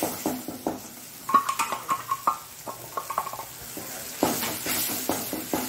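Spice masala slurry frying in ghee for a palak corn gravy, soft sizzling broken by repeated spoon stirs and scrapes, then a louder bubbling hiss toward the end.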